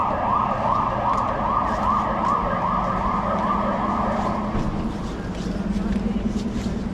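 Wailing ambulance sirens sweep up and down in a busy street near Plaza de Castilla, with traffic rumble and occasional voices nearby.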